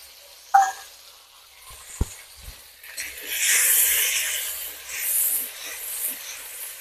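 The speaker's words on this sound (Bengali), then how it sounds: "এই মশলাটাকে ভালো করে কষিয়ে নেব আমি।" Ginger and green chili paste sautéing in a pan, a soft sizzling hiss that rises after a couple of sharp knocks and then swells and fades in waves.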